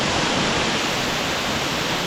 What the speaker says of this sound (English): Good waterfall's pretty cool.